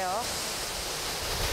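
Powerful waterfall on Ulleungdo island, fed from Seonginbong through primeval forest, roaring as a steady broadband rush of falling water that holds loud and continuous throughout, with no voices.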